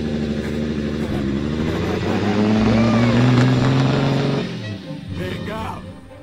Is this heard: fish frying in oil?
no